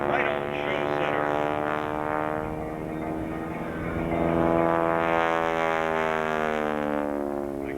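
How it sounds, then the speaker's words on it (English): A T-6 Texan airplane with a Pratt & Whitney R1340 nine-cylinder radial engine swinging a 10-foot Hamilton Standard propeller flies at an air show, its throaty propeller roar loud and continuous, swelling and easing slightly as it loops. "swinging a 10-foot Hampton standard prop, and that's the combination that makes the sound of only a Texan."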